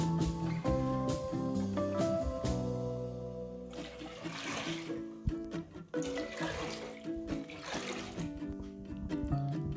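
Water poured from a vessel onto raw white rice in a pot, a running, splashing pour with bubbly liquid sounds that comes in several bursts, close and fairly quiet.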